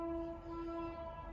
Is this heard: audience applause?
no